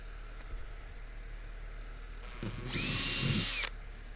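A power drill whirs loudly for about a second in a quiet room, drilling holes in a boat for a trolling motor mount, with brief tool noises just before it.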